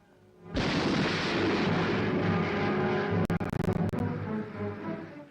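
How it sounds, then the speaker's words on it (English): Archival recording of an atomic bomb test explosion in the New Mexico desert: a sudden deep roaring blast that swells and rumbles continuously for several seconds, loud and dense, with crackling distortion toward the end. "Miles into the air rises the giant shape of the now historic explosion."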